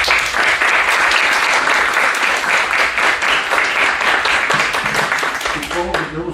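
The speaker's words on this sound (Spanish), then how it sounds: "Y pues vuelvo a felicitar al doctor y les pido su aplauso." Loud, dense applause from a seminar audience honoring a speaker, a continuous roar of many clapping hands that holds steady for several seconds and then thins slightly, with some voices mixed in at the close.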